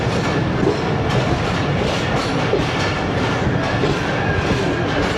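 Steady clickety-clack and rumble heard from inside a Green Line AC business class passenger train running on tracks in Pakistan toward Karachi Cantt station, a continuous even roar with faint rhythmic wheel clicks throughout.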